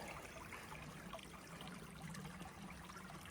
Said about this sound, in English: Here's one of the nice creeks.